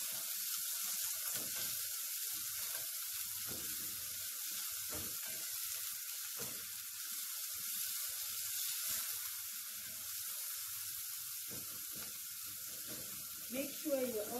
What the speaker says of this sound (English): First, I'm going to brown my onions.